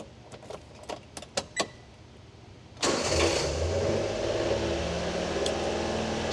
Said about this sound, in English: I'm going to go ahead and start this thing up so you can see how it runs.